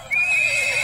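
A horse pulling a tonga lets out a loud, close whinny with a high wavering tone held for under a second.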